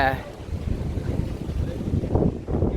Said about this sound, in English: It is quite windy here today, to be fair.